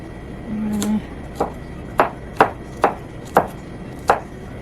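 Knife strokes dicing bell pepper and onion for ponzu steak bowls, about six crisp chops in an uneven rhythm on a cutting board, close and fairly loud, with a short low hum just before the first cut.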